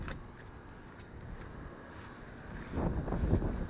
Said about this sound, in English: This wind is blowing kind of hard. Hopefully it's not messing up the audio.